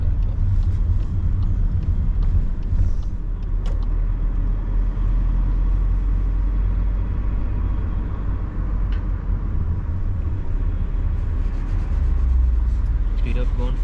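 Car engine in a driving lesson in Leeds, rumbling low and steady throughout as the learner presses the gas to speed up, with road noise beneath and a passenger and driver talking over it.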